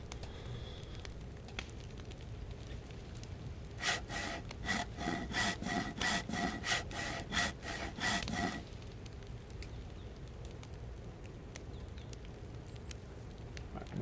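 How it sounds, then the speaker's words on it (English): A handsaw cutting wood into planks in the DayZ video game, a burst of about a dozen quick rhythmic rasping strokes in the middle, set against a quiet ambient background. "now we'll use this handsaw to go ahead and make planks"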